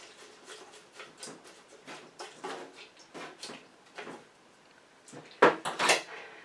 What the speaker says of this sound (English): now I'm just going to kind of stir this up, make sure it's free flowing